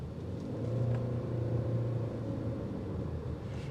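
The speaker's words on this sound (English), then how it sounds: "You're going to hear the engine come into play whenever you hit a higher RPM" A 2025 Toyota Highlander 25th Edition Limited hybrid engine rumbles up at higher RPM in sport mode, a steady low droning hum heard from inside the cabin, moderately loud and continuous.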